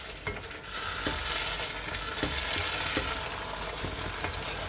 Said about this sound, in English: now we have to be careful the way we stir our dish